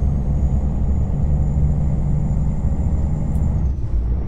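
A steady, loud Freightliner Classic XL truck engine drone in American Truck Simulator rumbles continuously at close range, with no talking.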